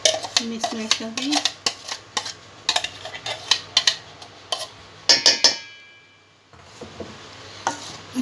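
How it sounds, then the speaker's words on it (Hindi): Malai cream and curd being mixed in a bowl with a spoon, producing a burst of sharp, close clinks and scrapes against the bowl, a short quiet stretch, then the stirring resumes. "अच्छे से मिक्स कर दीजिए इसे।"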